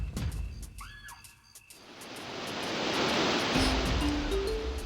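Steady, loud roar of rushing water from a waterfall in the Donkey Kong 64 video game. It swells in after a couple of seconds of softer game tones, with a few rising tonal blips near the end.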